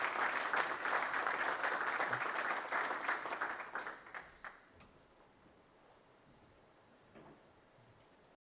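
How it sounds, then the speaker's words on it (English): At the opening of a research project's final conference, an audience claps steadily for about four seconds. The applause then dies away to a quiet room with a few faint knocks and shuffles. "Thank you very much, and round of applause"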